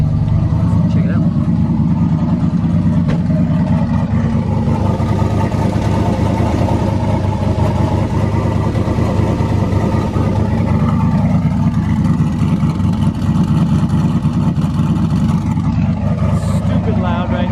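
Turbocharged Ford Fairmont engine running loudly, a steady low rumble and drone that holds throughout with slight rises in pitch, while a person talks over it.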